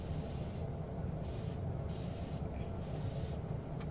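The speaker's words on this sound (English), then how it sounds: "I'm just spraying distilled water on there to get my paste wet so I can wash it off" Spray bottle misting distilled water onto paste to wet it for washing off, heard as several short hissing bursts in steady succession over a constant background hum.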